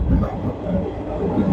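A passenger train, the Arambagh Express in West Bengal, rumbles along steadily from inside the carriage, a dense low roar with faint rhythmic rattling throughout the short stretch.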